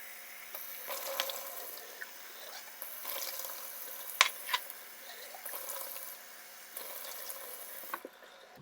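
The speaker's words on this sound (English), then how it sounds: "we're gonna double rinse each of our jars again." Water runs from a tap to rinse glass jars of sprouting wheat berries, a steady hiss and splash with brief surges and a few small clinks as the jars are handled, close and alone.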